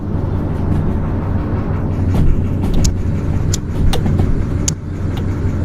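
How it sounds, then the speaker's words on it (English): Locomotive in the railway game Derail Valley rumbling steadily while rounding a tight curve, with a loud continuous low drone and a few sharp metallic squeals and clanks throughout. "interesting noises being made by the vehicle."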